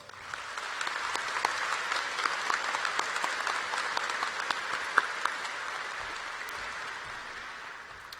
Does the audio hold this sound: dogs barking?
no